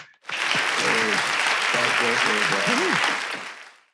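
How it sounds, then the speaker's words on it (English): An audience gives a warm round of applause at a Rotary talk event, swelling quickly and holding steady for a few seconds before fading, with a voice briefly audible over the clapping. "Let's give Brian a huge round of applause for a job really well done"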